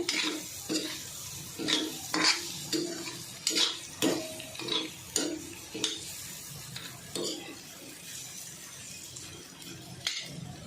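Finely chopped potato pieces are stir-fried in a pan, with a spatula scraping and clattering in repeated close strokes over a faint, steady sizzle.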